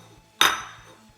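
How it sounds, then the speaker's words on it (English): A scoop of cooked macaroni lands in a bowl with a single clinking knock of spoon against dish, followed by a brief fading ring, close and fairly loud. "So let's just put in, a couple of good scoops of macaroni."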